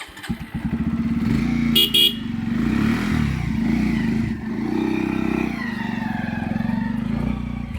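A motorcycle engine revs steadily and loudly up close throughout, with a short burst of horn honking partway through and some clattering over the running engine.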